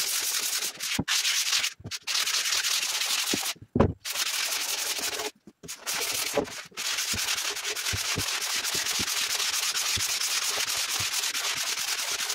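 A laminated ballasted dagger board for a 23 ft sharpie sailboat is sanded over a black powder guide coat, giving a steady close scratchy rasp with a few brief pauses.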